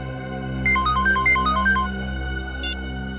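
An electronic telephone ringtone trills in a quick series of warbling beeps, followed a moment later by a short second burst. It plays over a steady background hum, and no voices are heard.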